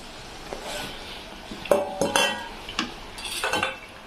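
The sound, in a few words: crushed potatoes being added to the pan and stirred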